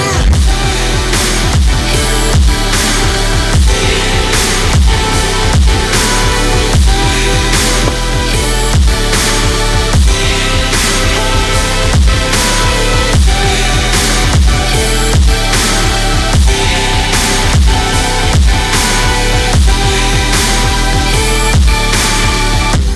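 A loud, dense future bass drop with sidechained kick and snares pumps steadily, the kick punching through thick chords and bass at a regular beat throughout.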